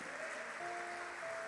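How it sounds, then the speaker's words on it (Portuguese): A church congregation applauds during a sermon, heard as a steady, faint wash of distant clapping that continues evenly for about a second and a half with a low hum underneath. "Você pode dar uma salva de palmas para Ele"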